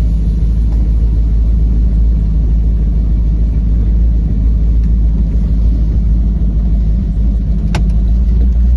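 A 1929 Ford Model A hot rod with Corvette parts idles steadily up close, its engine producing a loud, continuous low rumble with no voices.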